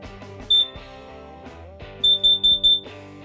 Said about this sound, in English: check your smoke and carbon monoxide detector